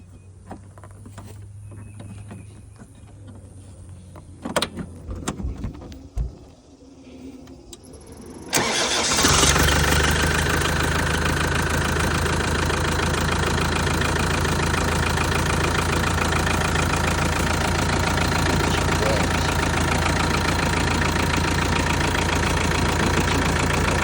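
A 1987 Land Rover Defender 110 with a rebuilt 300 TDI diesel engine cranks and catches after some quiet clicks and rattles, then settles into a loud, steady idle close by.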